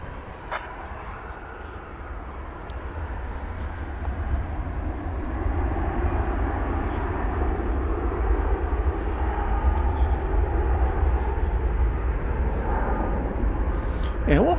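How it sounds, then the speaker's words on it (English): An American Airlines Airbus A321 jet bound for Las Vegas rumbles steadily and grows gradually louder, with a voice talking over the continuous engine noise. "It's an Airbus A321."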